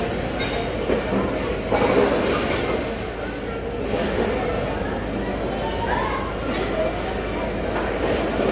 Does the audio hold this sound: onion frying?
no